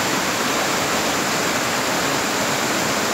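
Clean water pours into a natural, chlorine-free pool, a loud close steady rushing splash with no pauses and no talk.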